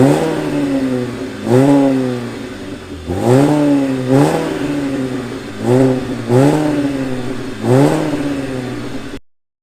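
A BMW car engine idles and is revved repeatedly, with about six rising-and-falling throttle blips over a steady idle, loud and close, before cutting off abruptly.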